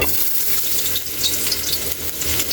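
Sliced ginger sizzles steadily in hot cooking oil for a pork dinuguan, a continuous close, loud crackling hiss with faint stirring and no voices.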